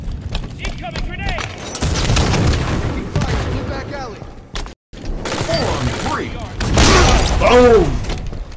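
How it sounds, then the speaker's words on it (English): Grenade explosion during a Halo 5 beta multiplayer match: loud, booming blasts and bursts of gunfire crowd the game mix, with a brief dropout in the middle and dense chaotic combat noise around it. "Incoming grenade!"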